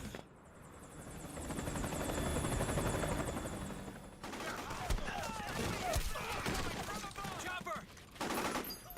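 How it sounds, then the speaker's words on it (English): Helicopter rotor and engine roar in the Metal Gear Solid 4 video game on PS3, loud and steady, joined by bursts of gunfire and shouted voices in the second half. "Chopper!"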